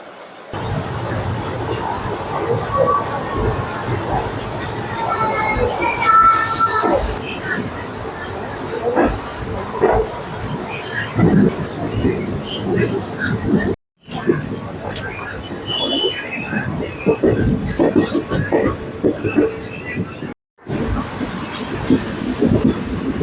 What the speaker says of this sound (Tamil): 5:03க்கு ஷார்ப்பாக ஈரோடு ஜங்ஷன்லேருந்து நம்மளோட ட்ரெயின் வந்து பார்த்தீங்கன்னா